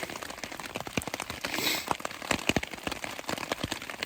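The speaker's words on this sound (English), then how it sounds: "Rain is still coming down pretty good." Rain falls steadily on a cheap tarp during an elk hunt in the Idaho backcountry, a soft irregular patter of drops close by with no voices.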